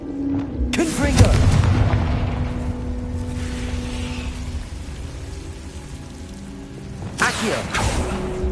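Confringo spell blasts in Hogwarts Legacy, each a heavy booming explosion with a rumbling tail, one early and another near the end, as a voice calls out over steady game ambience.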